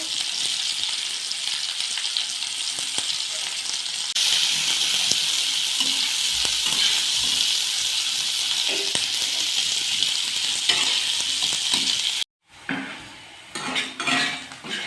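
Onions fry in oil in a wok, with a loud, steady hiss of sizzling and occasional clinks of a utensil against the pan; the sizzle drops out briefly near the end, then stirring sounds return.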